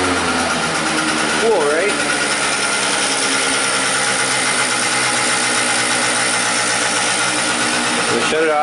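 A 50cc scooter with a lean-running fault idling loudly and close, a steady buzzing small engine with a brief throttle blip near the start, while someone speaks briefly over it.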